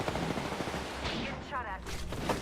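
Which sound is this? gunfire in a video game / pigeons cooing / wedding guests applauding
gunfire in a video game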